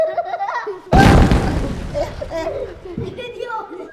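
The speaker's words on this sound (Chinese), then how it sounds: "这回爆炸了，这回爆炸了" A sudden loud boom bursts out in a Chinese comedy period drama, a comic on-screen explosion with a crashing, splattering tail that fades over a few seconds while voices talk and exclaim before and after.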